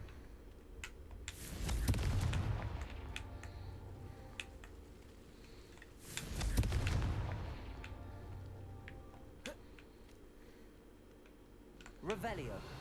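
Two big booming Confringo blasting-curse explosions go off in Hogwarts Legacy, each a loud low burst with a long rumbling tail, about four seconds apart, with game ambience and a brief crackle near the end.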